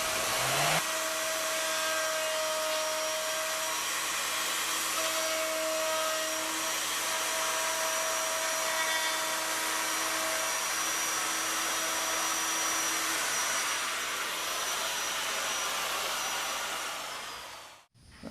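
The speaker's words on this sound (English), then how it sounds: "So now I have my router set up. I'm using a Roman OG bit," An electric wood router fitted with a Roman ogee bit shapes the edge of a wooden board, whining loudly and steadily close by for about seventeen seconds before spinning down abruptly at the end.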